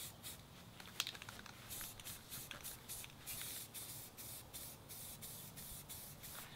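A spray paint can hisses out green paint onto household furniture as an accent colour, a close, steady spray broken into a long run of short regular bursts with brief gaps between them, with no talk over it.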